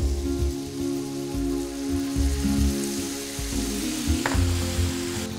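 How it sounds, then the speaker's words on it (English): Chorizo cooking with sweet and hot paprika and a splash of sherry in a pan, a dense, crackling sizzle hissing continuously over a steady low tonal hum, close and fairly loud. "A little bit of sherry to cook it down even further."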